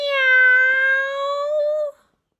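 A single drawn-out cat meow, clear and close, holding a steady tone for nearly two seconds before stopping abruptly; it may be a human voice imitating a cat.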